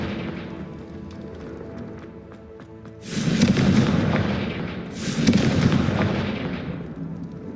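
Confringo blasting curse explosions in Hogwarts Legacy: two loud, booming blasts about two seconds apart, each swelling then fading into a rumbling tail over a low background hum.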